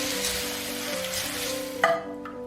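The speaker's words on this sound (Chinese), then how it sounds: "再把煮好的意面夹到平底锅中" Cooked pasta tossed with crisp bacon in a frying pan after the heat is off, giving a continuous sizzle under stirring, then a short scraping clatter near the end.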